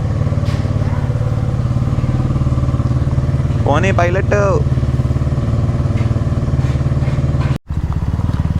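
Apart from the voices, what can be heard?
motorcycle engine running without silencer, loud exhaust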